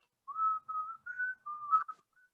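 Someone whistles the tune of My Country 'Tis of Thee: five or six clear sustained notes in a short phrase, soft and close, with no voices over it.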